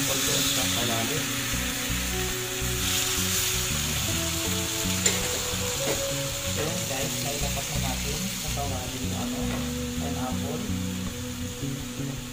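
Sugar hits hot oil in a pan on the stovetop while making a pineapple pancake, giving a steady, moderate sizzle broken by occasional scraping and clinking from stirring.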